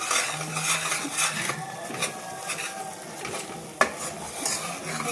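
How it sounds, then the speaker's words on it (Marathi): Roasted besan being stirred with sugar syrup in a pan over the gas for a sweet, a close soft sizzle with repeated spoon scrapes and one sharp metallic knock partway through, no talking. "हे पुन्हा हलवून घेते आहे"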